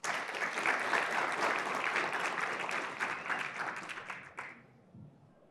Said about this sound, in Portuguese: uma ótima palestra. Palmas, pessoal.